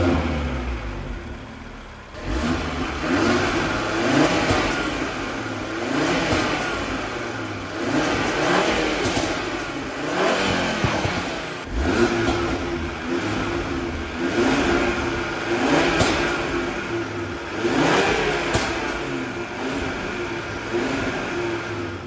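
A 520 bhp Audi RS3 with its stock airbox starts up, then the engine is revved repeatedly in strong bursts between idle stretches, close and loud, with no talking.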